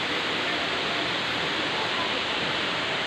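Tinago Falls pouring down in a constant, dense roar of rushing water, loud and close, with no breaks or variation across the moment.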